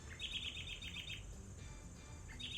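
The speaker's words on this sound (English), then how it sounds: "mockingbird that I think loves me, it visits me daily down here and terrorizes me with its loud voice." A mockingbird sings in a summer garden in zone 6b, repeating fast bright chirping phrases in quick bursts, fairly close and loud over a low background hum, with no talking.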